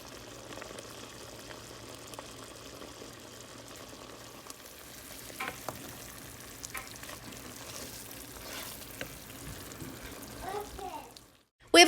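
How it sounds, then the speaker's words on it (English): Cornstarch-thickened sauce with a tablespoon of butter bubbling gently in a pan, a soft steady sizzle with occasional small pops and a brief clatter near the end. "I'm going to simmer it until it thickens"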